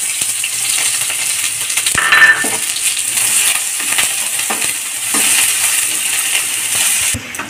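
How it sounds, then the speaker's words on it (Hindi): Steady crackling sizzle of onions frying with cumin seeds in a pan, with occasional stirring scrapes and clinks throughout, close and continuous with no talking. "प्याज भुना गया है"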